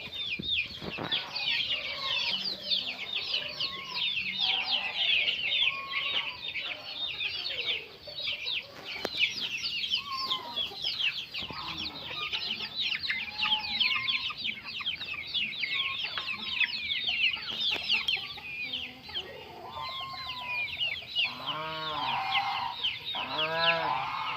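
A flock of guinea fowl cluck and chatter continuously, with dense overlapping calls and a few louder harsh cries standing out near the end.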